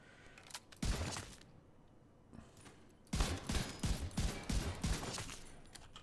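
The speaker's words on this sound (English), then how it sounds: "this is what I shoot with my rifle" Rifle fire in The Division 2, a clustered burst of shots near the start, then after a pause a rapid string of loud, close reports with sharp attacks and ringing tails.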